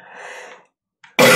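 A single sharp, loud cough close to the mic, preceded by a soft breathy vocal sound and a brief pause, during a co-op game of The Binding of Isaac: Repentance.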